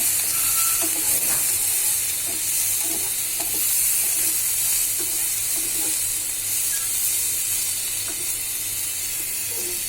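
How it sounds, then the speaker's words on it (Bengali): Chili, onion and garlic frying in oil in a pan for a rohu fish bhorta, a steady loud sizzle and hiss that runs the whole time with faint stirring scrapes, no voices. "ভাজা হচ্ছে ঝাল পেঁয়াজ রসুন"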